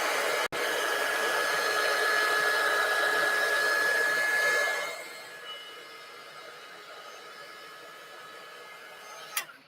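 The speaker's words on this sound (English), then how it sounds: "so we're going to dry this. Make sure it's nice and dry." A handheld dryer blows over chalk paste on a Dollar Tree St. Patrick's Day craft with a steady whirring hum and whine, close and loud, then winds down about halfway through, with a click at the start and end.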